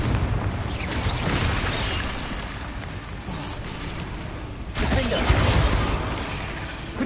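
A Confringo fire spell bursts in the video game Hogwarts Legacy, a loud, dense roar of explosive blasts and crackling debris that swells and fades and then surges again, with game effects layered over each other.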